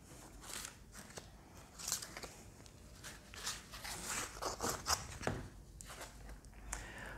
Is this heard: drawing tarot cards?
yes